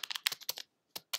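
Quick, light keystrokes on a computer keyboard while entering an email address, a brief burst of several clicks, a short pause, then two more taps, close and soft.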